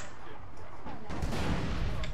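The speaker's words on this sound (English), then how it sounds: "that's sniper" Sniper rifle fire in the online shooter APB comes as a sharp, loud crack about midway through, ringing out over a noisy in-game background with distant rattling shots.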